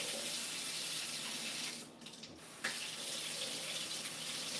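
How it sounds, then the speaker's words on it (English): Tap water runs steadily into a sink for rinsing, a continuous close hiss that briefly dips as something passes under the stream, then resumes at full flow. "let's go ahead and rinse this off."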